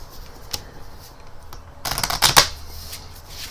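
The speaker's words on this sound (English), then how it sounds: "Marco, do you want to shuffle the cards as well?" A quick riffle of playing cards being shuffled, a short crisp burst near the end after a few faint handling clicks, close and fairly quiet.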